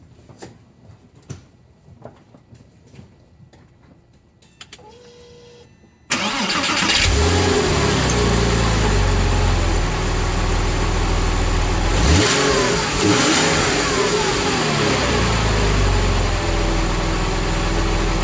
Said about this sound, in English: the last thing to do is just fire the car up